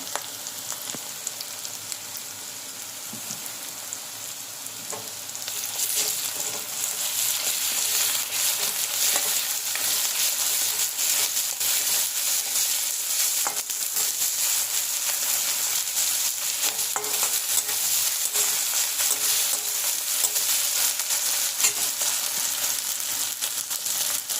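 Dry fish curry frying in a pan as garlic paste is stirred in, a bright steady sizzle that swells after a few seconds, with scraping and stirring knocks running through it and no voices.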